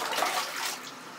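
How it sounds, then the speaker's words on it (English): Water running steadily into a bathtub during a child's bath at home, a broad continuous hiss and splash that holds close and fairly loud, tapering slightly toward the end with no talk over it. "Is the water still going?"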